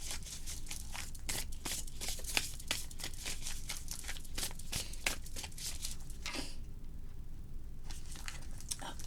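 Oracle cards are shuffled repeatedly in quick papery riffles close up, pausing briefly before a few more flicks.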